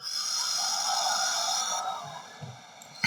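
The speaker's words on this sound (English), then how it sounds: "Take a deep breath in." A deep breath drawn in during a yoga practice, a long, close, airy inhale with a slightly nasal, snore-like rasp that fades, followed by a brief rustle at the end.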